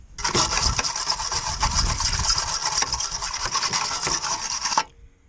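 A wire brush scrubs rusty metal on a VW T2 camper van during rust repair, rapid rough back-and-forth rasping strokes, loud and close, continuing for about five seconds before stopping abruptly.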